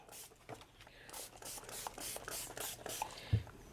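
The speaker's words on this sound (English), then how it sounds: "So we spray them with water." Several quick hissing sprays from a spray bottle, short bursts in an uneven rhythm, close by with a few light handling noises.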